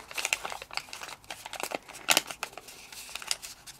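Paper being folded for an origami panther face, with quiet close crinkles and crisp creasing taps in irregular bursts, no talking.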